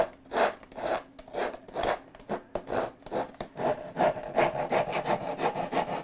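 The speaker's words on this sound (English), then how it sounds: "I will take a little rasp and just dress briefly, make it look a little bit neater." Wood being dressed with a small rasp while shaping a song stick: steady back-and-forth rasping strokes, close and fairly quiet, in a regular rhythm of about two strokes per second with no talking.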